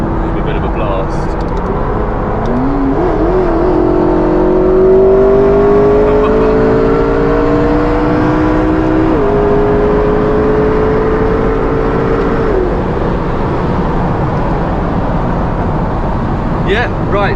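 A McLaren 650S Spider in track mode accelerates hard, its engine note climbing steadily in pitch through long pulls and a gear change, loud and close from inside the open-top car with wind and road roar throughout.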